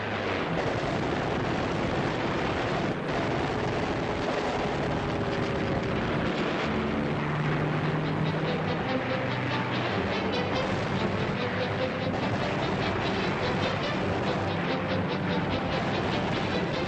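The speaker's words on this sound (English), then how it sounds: "The British planes attack the enemy squads in furious clashes, out of which many planes on both sides are shot down." WWII British and German warplanes locked in aerial combat, a dense, continuous roar of engines and rushing noise that stays loud and steady throughout with no voices.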